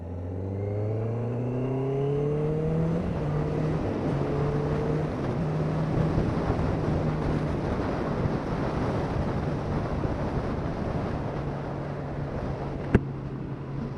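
A 2018 Honda CB650F motorcycle accelerates hard through the gears while overtaking a tractor, its engine note climbing in rising sweeps between quick shifts, steady wind rush over everything and one sharp click near the end.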